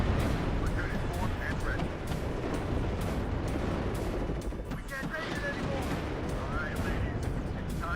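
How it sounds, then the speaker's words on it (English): A barrage of bombs exploding in the Cold War strategy game WARNO, a dense, continuous rumble of blasts and gunfire with a voice talking over it. "Oh, that was a lot of bombs."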